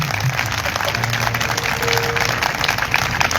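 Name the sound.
congregation clapping at a church meeting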